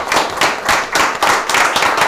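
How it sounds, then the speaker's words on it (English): A studio audience at a quiz show championship match claps in steady, rhythmic waves of close, loud applause with no talking. "Give yourselves a round of applause for goodness sake"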